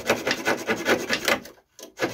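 Hand hacksaw cutting material while a large skylight is fitted into a slate roof loft, quick rhythmic rasping back-and-forth strokes, close and fairly quiet, with a short pause before the strokes resume.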